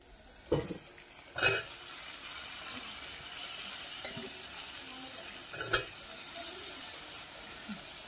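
Boiled potatoes tip into a hot frying pan of fried spices with chilli powder, cumin powder and salt, giving a few clattering knocks and scrapes from stirring over a steady, close sizzle.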